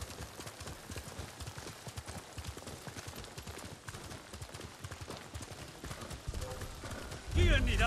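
Horse hooves clip-clop steadily at a walking pace in the Ghost of Tsushima video game, a continuous rhythmic patter heard alongside game sounds, ending with a louder thud and rustle.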